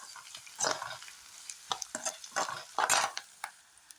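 Garlic, shallots, onion, cinnamon and chilli being sautéed in a pan for a yam curry, with a utensil scraping and stirring in a few distinct bursts over a soft sizzle, close and moderately loud.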